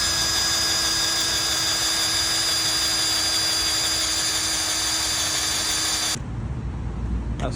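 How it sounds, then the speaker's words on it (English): A power drill boring holes through metal on a mower: a steady, loud whine held for about six seconds before it cuts off to quiet background. "We drilled 2 holes, bolted that on, wheels along."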